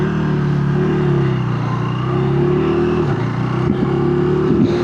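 A KTM 390 Adventure R motorcycle rides on tarmac, its single-cylinder engine droning loud and close, with small pitch shifts as it changes gear and accelerates.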